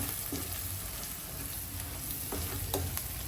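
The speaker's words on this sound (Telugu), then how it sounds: "ఇప్పుడు కొత్తిమీర వేస్తున్నాం చూడండి కొత్తిమీర వేసి కలిదిప్పుకున్నాము" Curry with fresh coriander being stirred in a pan on the stove, a steady close frying sizzle with scraping stir strokes and no talking.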